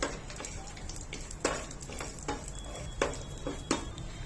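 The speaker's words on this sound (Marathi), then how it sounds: "तुपामध्ये आपण आवडीनुसार ड्रायफ्रुट्स घालून घ्यायचे" Dry fruits fry in hot ghee in a pan over a gas flame. A steady soft sizzle runs under repeated scrapes and taps of a spoon stirring against the pan.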